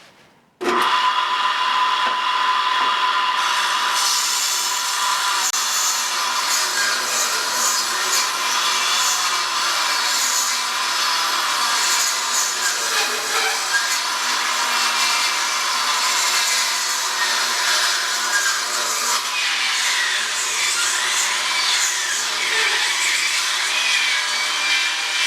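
A table saw motor runs steadily for about 25 seconds, a loud continuous whining drone with a rasping, broadband edge as the blade pushes slowly through wood, with no talk.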